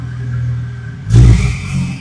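A Porsche 911 Carrera GTS engine idles with a low hum, then surges in a sharp, loud rev on the throttle before easing back to a rumbling idle, heard from close by.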